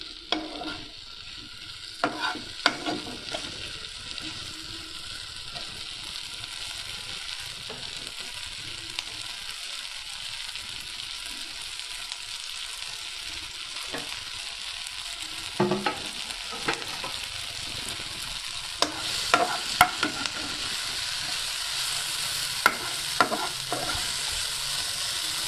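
Food sizzles steadily in a hot pan for the whole stretch, with a dense hiss broken by occasional stirring scrapes and clicks, close and fairly loud, no voices.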